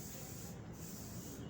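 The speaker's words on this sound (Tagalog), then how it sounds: "Spray na itim." Black paint sprayed onto a steel cabinet, a faint continuous hiss of the spray gun with slight pulses, quiet and alone without talk.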